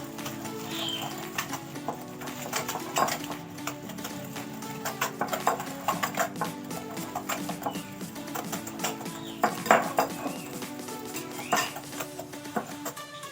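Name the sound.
beater mixing sugar and ghee for nan khatai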